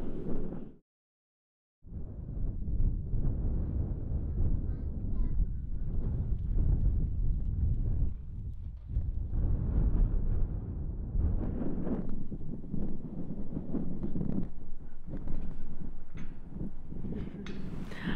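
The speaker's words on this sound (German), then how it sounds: "Es ist sehr windig." Strong wind buffets the microphone in a Mongolian national park, a dense, gusting roar that rises and falls for the whole stretch after a brief dropout near the start.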